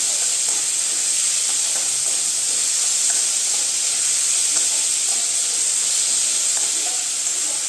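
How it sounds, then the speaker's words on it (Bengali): Cabbage with salt and turmeric frying in a pan, giving a steady, loud, close hiss and sizzle that runs unbroken throughout with faint scraping stirs. "দিয়ে আমি 5 মিনিট ভেজে রাখব।"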